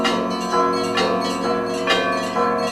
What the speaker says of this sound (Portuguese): Enquanto os sinos tocam,